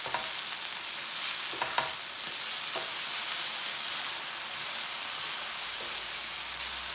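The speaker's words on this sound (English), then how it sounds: "Now, add the egg. And stir this through." Egg being stirred through rice as it fries in a hot pan, a steady close sizzle with a few scraping stirs of the spatula early on.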